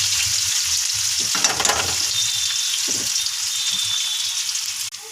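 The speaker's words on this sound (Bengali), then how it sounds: "তেল গরম হয়ে গেছে, শুকনো লঙ্কা ফোড়ন দিলাম, পেঁয়াজ দিয়ে দিলাম, একটু নাড়িয়ে ছাড়িয়ে নিচ্ছি" Onions sizzling in hot oil with dried chillies, a steady close frying hiss broken by a few scraping stirs of the pan, with no one talking.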